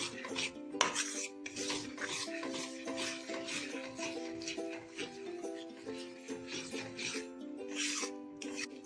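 Gram flour being stirred in ghee in a pan for besan laddu gives a steady scraping and clinking of a utensil against the pan, running continuously under background music.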